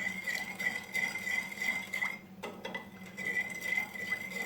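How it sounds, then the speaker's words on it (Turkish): A spoon clinks and taps softly against the sides of a container while sugar is stirred slowly into homemade lemonade of lemon, orange and mandarin juice, faint and close, with no talking. "Ve onunla da şekerimiz eriyene kadar yavaş yavaş karıştırıyoruz."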